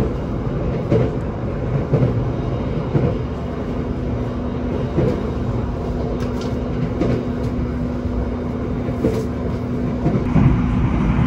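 Steady rumbling roll of the Argo Bromo Anggrek train heard from inside a carriage, a continuous low drone with a faint hum and occasional soft knocks from the rails, no voices.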